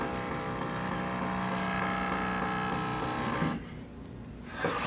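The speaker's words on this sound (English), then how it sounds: "bring it up while the router's running, and it's going to plunge into the piece" A router on a digitally controlled router lift runs steadily in a woodworking shop, a tonal motor whine plunging up into a wooden piece, then the sound drops abruptly near the end, followed by a brief bump.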